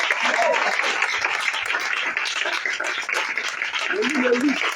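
A church congregation at an evening worship service claps and cheers steadily throughout, with a voice speaking and calling out over the applause.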